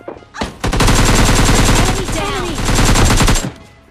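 Rapid automatic gunfire in a PUBG Mobile Lite gunfight, a loud close burst of fast repeated shots lasting about three seconds before cutting off.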